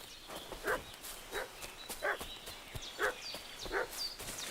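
Dog barking in the medieval video game Kingdom Come, about five evenly spaced barks at moderate distance over steady game ambience with clopping and clicks, no talk.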